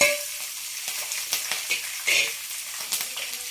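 Green chillies fry in a pan with a continuous bright crackling sizzle, broken by irregular pops and spatters at close range.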